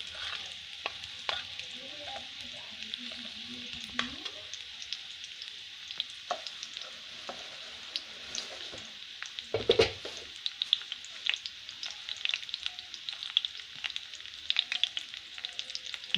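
Whole red chillies and cumin seeds sizzling in hot oil for a masoor dal tadka, a steady crackling fry with occasional stirring clinks, close but fairly quiet, with no talking.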